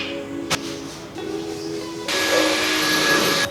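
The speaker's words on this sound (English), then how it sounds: "The house is vacuumed" A household vacuum cleaner runs close by while the house is cleaned, its motor whine building and then holding steady and loud, with a sharp knock early on.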